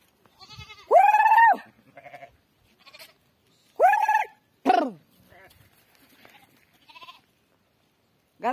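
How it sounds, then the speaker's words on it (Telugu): A flock of sheep being driven and drinking water bleats in several separate calls, close and clear, with quiet gaps and fainter bleats between. "చూడండి ఎలా పోతున్నాయి గొర్రెలు."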